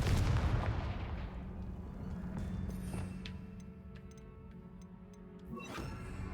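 A Confringo blast spell from the Hogwarts Legacy video game booms at the start and fades into a rumbling, crackling decay, with faint ticking debris and a smaller burst near the end.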